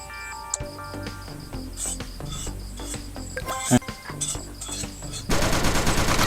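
Rapid gunfire crackles in a mobile shooter game where monsters are shot while defending a train, with bursts of shots over game music and effects that end in a dense, loud stretch.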